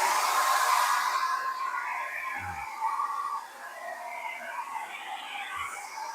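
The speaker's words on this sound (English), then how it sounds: "we're going to fire up the hairdryer" A hair dryer runs continuously, blowing hot air onto the adhesive of a shower curb in a Winnebago Ekko Sprinter camper van. Its steady whooshing hum is close and loud, with a couple of faint low bumps from handling.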